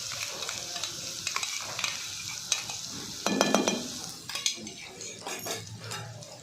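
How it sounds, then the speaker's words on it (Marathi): Mustard seeds spluttering and popping in hot oil for a green chickpea dish, a crackling sizzle under scraping and clinking of a spoon stirring in the pan, with a faint voice in the background. "पण ती मोहरी उडाली पाहिजे हा त्यालाच मध्ये तडली पाहिजे"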